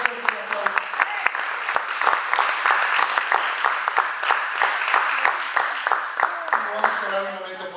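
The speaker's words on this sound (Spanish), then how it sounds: "Dale fuerte un aplauso." A church congregation applauds at a worship service, a dense, sustained burst of clapping from many hands with a few voices calling out underneath, holding steady for several seconds before easing off.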